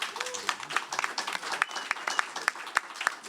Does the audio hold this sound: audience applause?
yes